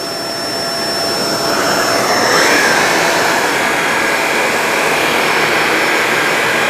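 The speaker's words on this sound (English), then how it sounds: "Look at it agitating out. You can see it lifting the carpet." A Shark Apex DuoClean Zero M vacuum cleaner runs on carpet with a loud, steady airy roar and a high motor whine close by. The pitch shifts slightly as it moves, and no one speaks.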